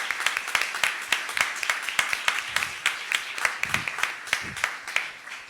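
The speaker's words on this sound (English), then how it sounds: "I would ask for a round of applause for all our mentors" Audience applause for a group of mentors at a startup demo day, a steady patter of many hands clapping with regular sharp claps running throughout, moderately distant and fairly quiet.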